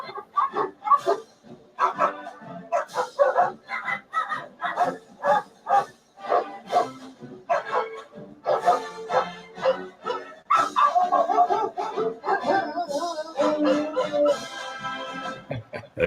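Several dogs, including a boy named Cedar chewing a duck toy, bark and yip in short repeated bursts close by, overlapping with bouts of indistinct talk.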